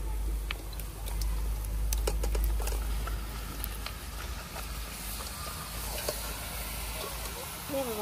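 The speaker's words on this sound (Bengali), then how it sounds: "এবার মাংসটা আমি ঢেলে দিচ্ছি" Chicken meat tipped into a large kadai of hot, oil-released spice paste at an outdoor winter picnic, giving a steady broad hiss and crackle of sizzling with scattered sharp pops, while people talk over it.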